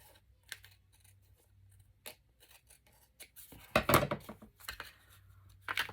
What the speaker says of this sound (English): I'm going to trim that off just a little bit